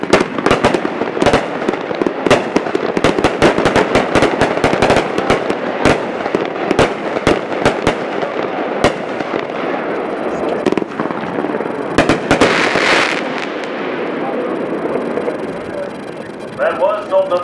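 A 35-shot Sultan of the Sky consumer fireworks cake fires at a demo: a rapid series of sharp, loud bursts in close succession, with crackle near the end.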